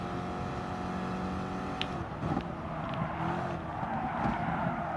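Race car engines in Gran Turismo Sport, including a Nissan GT-R, drone steadily at high revs through a race, with a brief tick and slight engine swells as cars pass, no voices.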